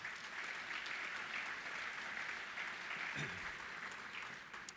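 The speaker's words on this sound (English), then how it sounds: "Please give them a round of applause." A convention crowd applauds steadily, a dense wash of clapping that holds at an even level and tapers off slightly at the end.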